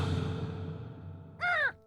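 Crows caw in a single loud harsh burst near the end, following a fading low musical tone.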